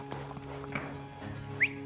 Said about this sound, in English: Joe's first horse, Jazz, makes it look easy